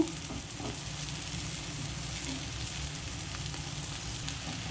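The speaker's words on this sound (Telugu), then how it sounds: "పప్పుల పొడి, కారము, ఈ తెల్లగడ్డ వేసి లాస్ట్లో ఒక్క సెకండ్ అట్లా బాగా తిప్పి వేయించుకున్నామంటే మనకి వేగిపోతుందండి మొత్తము." Broad beans (chikkudu kaya) stir-frying in a pan with lentil powder, chili powder and garlic, giving a steady, close sizzle and hiss with a couple of soft stirring knocks near the start, no talking.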